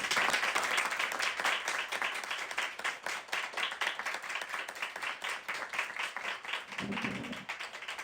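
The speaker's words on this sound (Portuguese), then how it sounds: "E as palmas louvem a Jesus." A church congregation claps in praise, steady rhythmic hand claps from many people filling the room, loud and continuous throughout with faint voices underneath.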